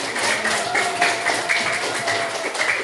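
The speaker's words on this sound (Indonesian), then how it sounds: "Tepuk tangan buat." A classroom of students claps hands together, a loud continuous wash of close, overlapping claps with a few voices mixed in.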